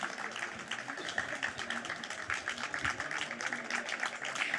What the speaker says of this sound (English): I'm going to ask you to applaud them